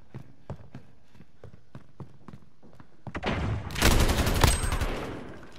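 Gunfire in Call of Duty: Modern Warfare: a series of spaced sharp shots gives way to a dense, loud barrage of rapid fire and explosions in the second half.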